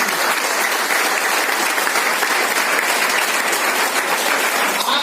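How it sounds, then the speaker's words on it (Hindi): An audience at a public gathering in Boisar, Mumbai breaks into loud, sustained applause, a dense even roar of many hands clapping that continues without pause and without speech. "तालियां"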